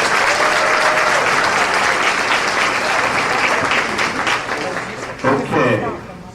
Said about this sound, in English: Let's give the Skeeza 8-man all-state team a big round of applause